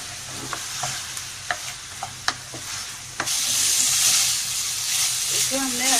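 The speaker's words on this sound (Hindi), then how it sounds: "हमने चिकन को अच्छे से कुक करना है, तकरीबन 3 से 4 मिनट तक" Chicken for shawarma fries in a pan, with a few sharp utensil taps over a low sizzle before a loud, hissing surge of frying takes over and keeps going.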